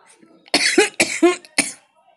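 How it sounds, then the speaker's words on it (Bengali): A short run of four harsh coughs in quick succession, close and fairly loud, with quiet pauses before and after. "একটু কেশে নিয়ে বললেন"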